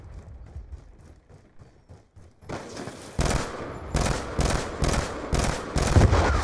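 Gunfire in the video game Call of Duty Black Ops 2: faint scattered shots at first, then a loud run of rapid, evenly spaced bursts like automatic fire, each sharp crack following closely on the last.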